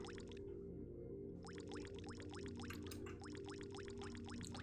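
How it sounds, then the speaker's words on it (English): Water in the video game Yume 2kki, a rapid stream of small plinking drips and plops repeating over a steady low hum, quiet and without talk. "The plippin' ploppity water."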